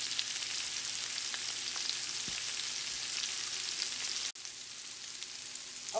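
Shrimp burger patties frying in a pan give a steady, close sizzle that runs throughout, broken by one brief dropout near the end, with no talking.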